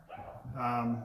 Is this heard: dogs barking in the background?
yes